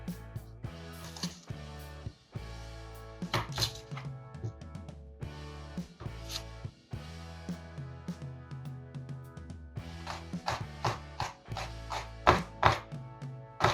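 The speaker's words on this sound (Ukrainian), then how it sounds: "І чистимо цибулю і ріжемо." An onion being chopped with a knife on a board, a fast series of crisp blade taps in bursts with short pauses, close and fairly loud, with a steady background hum.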